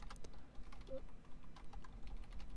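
Fingers type on a computer keyboard in a quiet, close run of soft, quick key clicks with no speech.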